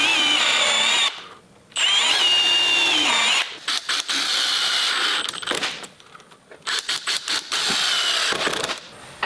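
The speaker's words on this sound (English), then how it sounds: "We're gonna pre-drill 2 holes with a countersink bit, and we're gonna put 2 4-inch screws in the corner" A power drill with a countersink bit pre-drills holes, then drives 4-inch screws into a wooden deck gate frame corner held by quick clamps, loud and close, with sustained whirring runs broken by short stops and trigger bursts.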